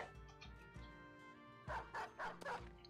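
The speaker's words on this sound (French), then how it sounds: "on peut lâcher les chiens." Dogs from a desert-set video game barking after being let loose, a run of deep woofs followed by several sharper, louder barks in quick succession near the end.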